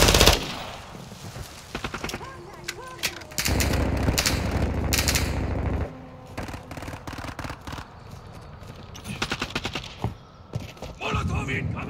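Automatic gunfire from Call of Duty: Modern Warfare 2, Kill Confirmed mode on the Shoot House map, with rapid machine-gun bursts and scattered shots, loud and close, mixed with in-game voice callouts and other battle noise.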